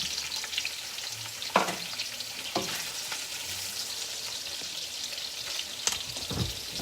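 Cajun sausage sizzles steadily in a hot pan, a constant crackling frying hiss with a few louder pops and stirring scrapes, close up and with no talking.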